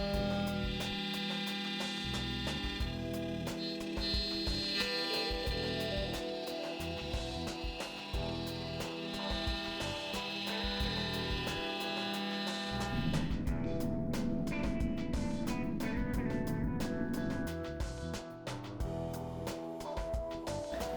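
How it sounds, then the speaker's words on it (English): A Makera Carvera Air CNC machine mills aluminium, giving a continuous loud whine with dense tonal harmonics and rapid cutting clicks that shift pitch partway through, with no talking. "this is my first time ever machining aluminium"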